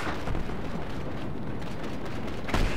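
A rifle shot in the Battlefield 3 video game: a heavy boom near the end of a loud, continuous roar of battle noise.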